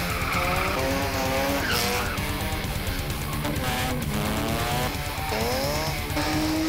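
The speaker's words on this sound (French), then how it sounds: "Le drift peut se dérouler sur des circuits éphémères." A drift car sliding with tires skidding and squealing on a temporary circuit, the engine roaring loud and steady throughout with rising and falling pitch as the car slides, close and continuous.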